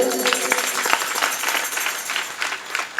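An audience at a kirtan claps and applauds, a dense, loud burst of many hands that runs the whole time without a break.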